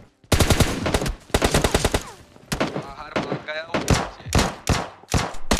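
Loud bursts of gunfire in PUBG Lite, including an M24 sniper rifle, arrive as several clusters of sharp rapid shots with brief gaps, close and punchy.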